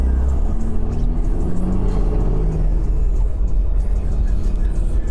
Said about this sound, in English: So I'm finally fucking driving now.